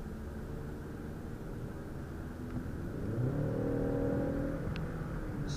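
A 2019 Ford Mustang EcoBoost engine and exhaust rise from a steady cabin drone into a stronger, building growl as the car accelerates, heard from inside without talk.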